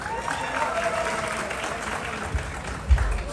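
An audience at a film promotion event breaks into steady, dense applause, a crowd clapping together loudly and close for a few seconds.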